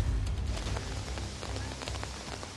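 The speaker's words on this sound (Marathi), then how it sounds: "छत्रपती शिवाजी महाराज टर्मिनस परिसरात मुसळधार पाऊस जो आहे तो सुरू" Heavy downpour in Mumbai near Chhatrapati Shivaji Maharaj Terminus, a dense steady hiss of rain pattering on surfaces with low rumbling underneath, continuous and close.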